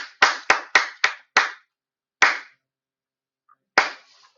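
Hand clapping in a quiet room: a quick run of five sharp, loud claps, then a pause, a single clap, another gap and one last clap, each crisp with a short decay and no other sound.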